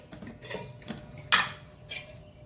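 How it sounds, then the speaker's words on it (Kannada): A metal wok set down on a gas stove in a home kitchen gives a few light clinks and one sharp, close metallic clatter, with a softer knock after it and no talking. "ಇನ್ನು ಇಲ್ಲಿ ಒಂದು ಗ್ಯಾಸ್ನಲ್ಲಿ ಬಾಣಲೆಯನ್ನು ಇರಿಸ್ಕೊಳ್ಳೋಣ"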